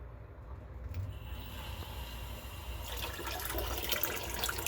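Electric brew-in-a-bag setup with its pump circulating water through a hose into the pot, valve mostly closed: a steady running, splashing water flow with a low motor drone underneath, growing fuller and louder partway through, no talking.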